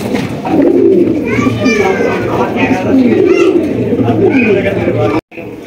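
A pair of Andalusian Modena pigeons coos in repeated low, rolling calls close by, while someone talks over them nearly the whole time and children can be heard faintly.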